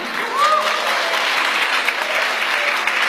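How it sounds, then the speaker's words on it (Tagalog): Audience applause at a Filipino live show, steady and fairly loud, with a faint voice briefly rising above the clapping. "Alam ko palakpak sila eh."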